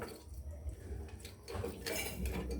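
Metal pot of Filipino chicken adobo handled in a home kitchen, with soft clinks and scrapes of cookware and utensils, a faint drip of liquid, close and fairly quiet, no talking.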